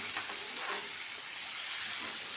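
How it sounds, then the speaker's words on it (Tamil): Onions for mutton kulambu fry in a pan with green chillies and whole spices, a continuous bright sizzle heard up close, with faint scraping as they are stirred and no one speaking. "போட்டோன்னே டக்குனு வெங்காயத்தை போட்டுவிட்டேன். நல்லா வதக்கிக்குவோம்."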